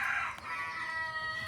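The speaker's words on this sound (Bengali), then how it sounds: "আজকে আপনাদেরকে দেখাবো যে মুরগি, এই যে মুরগি এখন খাচ্ছে" Chickens cluck at a coop during afternoon feeding. A short, steady stretch of soft clucking and fowl calls from several birds is heard at moderate distance, with no speech.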